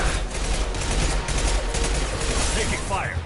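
Gunfire in the video game Mass Effect 2: sustained rapid automatic bursts and fusillade crackle, steady and fairly loud, with a voice speaking over the shooting.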